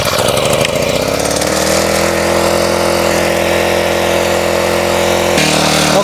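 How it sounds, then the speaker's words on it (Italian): A newly bought backpack brush cutter sits freshly started, its small two-stroke engine running loud and close in a steady, buzzing drone that settles into an even idle after a brief rougher start, with no talk. "il decespugliatore è in moto, lo mettiamo in funzione"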